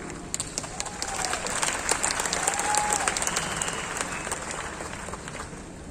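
Audience applause at a stage event, steady clapping from many hands lasting throughout, fairly close and full, with no speech over it.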